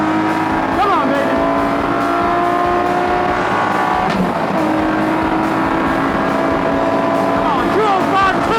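A fast Poor Man's Lotus race car roars steadily on a track, its engine loud and continuous with a shift or pitch swing partway through, while people talk excitedly over it.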